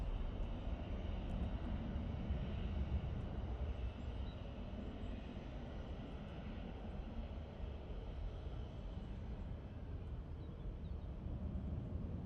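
Aer Lingus airliner on short final approach to Manchester Airport, a steady low broadband engine roar heard from a distance, holding at an even level throughout.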